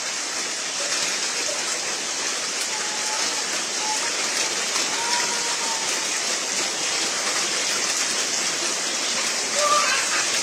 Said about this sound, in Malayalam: ഗംഭീര മഴയാണ്